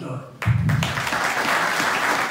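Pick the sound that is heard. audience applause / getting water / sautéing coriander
audience applause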